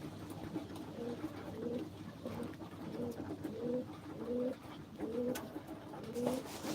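Baku pigeons cooing in a quiet loft, soft repeated low coos rising and falling in a steady rhythm over faint background hum, with several birds calling close by and no talking.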